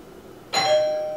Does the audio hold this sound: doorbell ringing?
yes